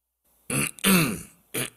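Someone close by coughs and clears their throat in three short, rough bursts separated by brief silences.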